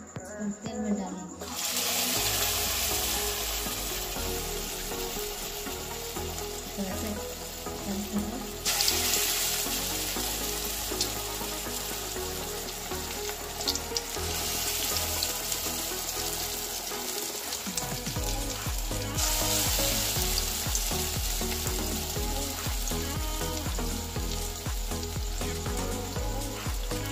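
Urad dal pakoras for dahi vade fry in hot oil, giving a steady, close sizzle and bubbling that runs without a break the whole time.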